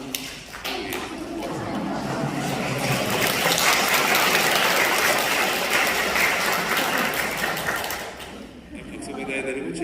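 Applause from a church congregation at a Sunday Mass fills the space, a dense sustained clatter of many hands that swells, holds steady for several seconds, then fades near the end.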